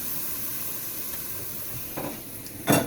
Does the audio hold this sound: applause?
no